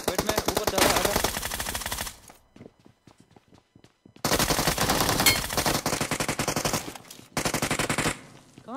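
Loud automatic gunfire in the BGMI battle royale game comes in long rapid bursts, then a quieter gap with scattered single shots before more sustained bursts resume.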